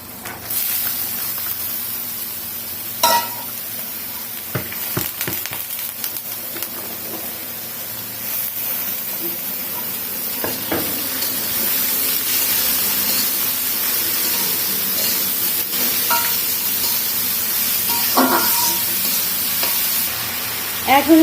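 Radish fries with onions in a pan, a steady hissing sizzle throughout with occasional sharp clicks and scrapes from stirring.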